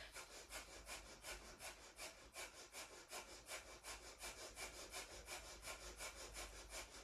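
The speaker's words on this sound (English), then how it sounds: "It's like a panting breath." Rapid, rhythmic panting breaths during a kundalini yoga breathing exercise, an evenly paced series of short, airy exhales, close but quiet.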